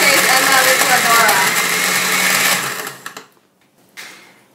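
A kitchen blender whirring loudly as it mixes smoothie ingredients with ice cream and milk, a steady high motor whine for about three seconds before it winds down and stops, then a brief clatter.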